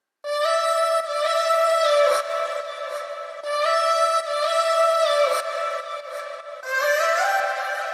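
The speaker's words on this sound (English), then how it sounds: "And the old vocal chop." A vocal chop cut from a sung ad-lib, drenched in delay and reverb and sidechained, in a Bitwig Studio production: bright stacked tonal phrases repeat in roughly two-second pulses, loud and up front with no talking.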